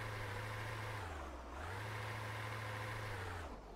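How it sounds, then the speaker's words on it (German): A vehicle engine running in Straßenmeisterei Simulator, a steady low hum that dips and rises twice as it revs, constant and fairly quiet with no voices. "Motor starten."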